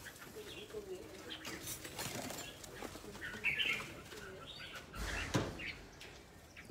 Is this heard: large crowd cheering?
no